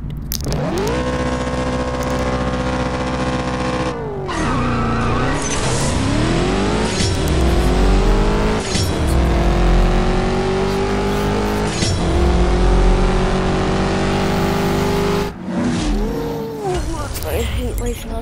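A BMW M3 GTS race car engine in the CSR2 mobile drag-racing game revs hard and climbs through repeated gear shifts, a loud, close, continuous whine that rises and drops over the run, with a voice speaking underneath.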